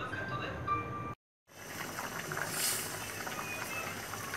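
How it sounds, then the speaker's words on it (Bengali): Jhinga curry simmering in a covered pot, a soft continuous bubbling hiss close by, briefly cut by a moment of silence before the low boil resumes. "এগুলোর মধ্যে বলক চলে এসেছে"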